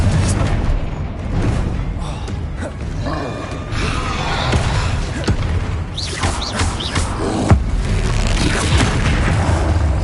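Confringo explosive spell cast in the Hogwarts Legacy video game, with repeated booming blasts and creaking crackles over a dense, busy combat mix, loud and close throughout.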